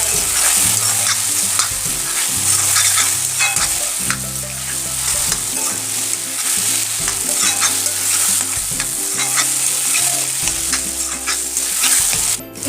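Boiled potatoes tossed into a hot frying pan, giving a loud continuous sizzle with stirring scrapes throughout, up close, while background music plays along underneath.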